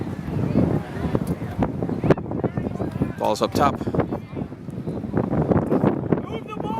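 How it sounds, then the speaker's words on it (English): Wind buffets the microphone throughout an outdoor lacrosse game, giving a rumbling, gusty noise beneath the loud play-by-play commentary. "Nice and windy and occasional cloud cover over the top."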